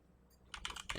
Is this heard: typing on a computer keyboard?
yes